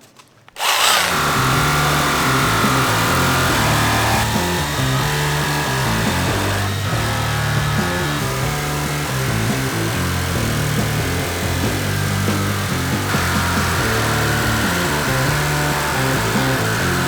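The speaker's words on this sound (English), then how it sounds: "follow the line and basically cut point to point, Nick, all the way round." Power tool cutting a window opening point to point through the metal side panel of a VW Crafter van, a loud, close, continuous whine and rattle that starts abruptly and runs unbroken for over fifteen seconds without talk.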